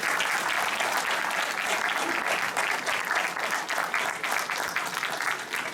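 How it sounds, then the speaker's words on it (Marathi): An audience at a Ganapati cultural program in Sunnyvale applauds children performers, a loud, sustained, even round of clapping from a crowd without talk. "या सगळ्या मुलांकरता एकदा जोरदार टाळ्या होऊ जातो"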